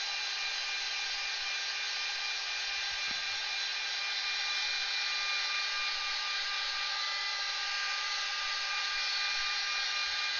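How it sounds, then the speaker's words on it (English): A hair dryer blows continuously at close range over thin watercolour paint on paper, a steady loud whirring rush with a faint click partway through. "I'm going to turn on the dryer."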